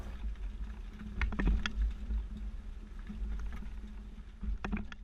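A 2015 Nissan Rogue carrying a Swagman XC2 two-bike rack rolls over full speed bumps, with low rumbling road noise and a couple of sharp rattling clunks from the rack as the car bounces up and down.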